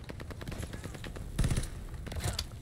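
Pistol gunfire in Call of Duty: Vanguard, a quick run of sharp shots with a louder close burst midway and more shots near the end, over busy game noise.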